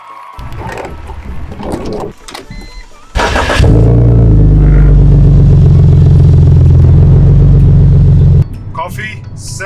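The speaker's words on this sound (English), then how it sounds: "let's put some heat onto the E46 and let's get on our way" A BMW E46 engine cranks and catches, settling into a loud, steady idle rumble close by for several seconds before cutting off; a voice speaks briefly before the start.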